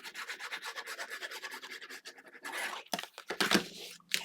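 Paper score lines on a vintage snow-themed window album being burnished down with a tool, a quick rhythmic rubbing scrape repeated steadily, close and moderately loud, then a few harsher, broader strokes near the end.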